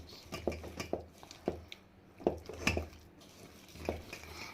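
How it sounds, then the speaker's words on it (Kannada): A spoon mixes ingredients in a bowl, making a run of irregular clinks and scrapes against the bowl, some sharp and close, with quieter pauses between them and no speech. "ಈಗ ಮಿಕ್ಸ್ ಮಾಡಬೇಕು"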